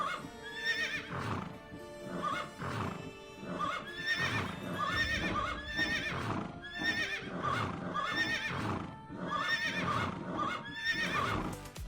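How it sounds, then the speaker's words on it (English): Horse whinnies and neighs repeat in a video game, Assassin's Creed Odyssey, loud and close over a busy layered game soundscape with rhythmic hoof clatter throughout. "When you select a horse skin, this is also new, you now hear 1 of 3 horse sounds."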